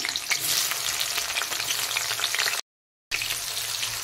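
Tomato hissing and frying in a pan with fenugreek seeds for a vegetable cauliflower curry, a steady close sizzle that cuts out briefly to silence and then resumes, with no talking.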